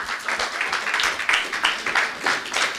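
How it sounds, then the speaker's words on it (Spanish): A church congregation applauds during a night vigil service, giving steady, dense clapping from many hands. It is fairly loud and close, continuous across the whole moment, with no voice over it. "Dale un aplauso al gran Dios que tenemos."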